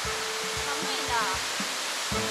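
Oshinkoshin Falls in Shiretoko, Japan, gives a steady broadband roar of falling water that runs unbroken from start to finish, with people talking beneath it in the cold outdoor air.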